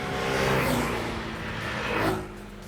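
TVS Jupiter 110 scooter out on a test ride, its engine and road noise a steady, loud whir that swells, peaks and eases slightly as it moves along, with no talking.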